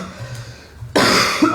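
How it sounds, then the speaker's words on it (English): A man coughs loudly and roughly in a sudden burst after a stretch of quiet room noise. "He's coughing."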